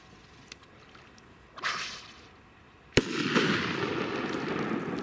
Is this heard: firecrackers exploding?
yes